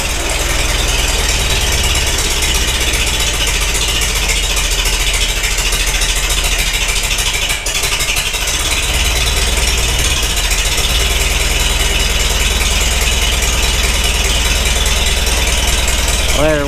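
Engine idling steadily while warming up with the choke feathered, a loud continuous rumbling drone with slight knocking that holds throughout.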